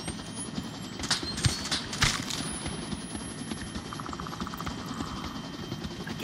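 A helicopter in the video game Onward produces a steady, droning rotor and engine rumble throughout, with a few clattering bumps on top and no talking.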